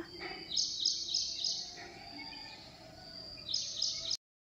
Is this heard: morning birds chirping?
yes